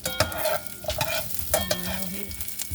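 Quail eggs are stir-fried in a pan to a soft scramble, giving a quiet, close sizzle. Light scraping stirs and soft clicks of the utensil come through in an irregular rhythm.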